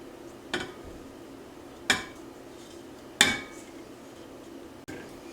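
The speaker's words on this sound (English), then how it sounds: "I'm going to go ahead and scrape out our orange dough into a separate bowl." Orange dough is scraped out of a mixing bowl into a separate bowl, with three or four sharp clinks of a utensil against the bowl spaced about a second apart, loud and close.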